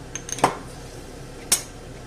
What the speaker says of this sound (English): And I'll cover this back up